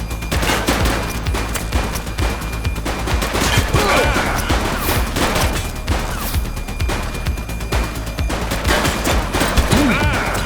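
A shootout in the police video game The Precinct fills the clip with dense, continuous bursts of rapid gunfire and impacts, loud and unbroken for about ten seconds.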